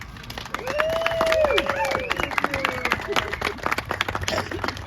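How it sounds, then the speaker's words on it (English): A crowd applauds and claps at the outdoor dedication of steam locomotive 1395 on the Coopersville and Marne Railway, with steady clapping under overlapping voices and a whistling tone early on. "So I would just like to have an applause for all the folks that have worked on this"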